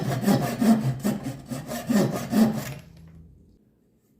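A two-sided hand saw with coarse and fine teeth rips through wood in several rhythmic back-and-forth rasping strokes, loud and close, then stops and leaves near silence.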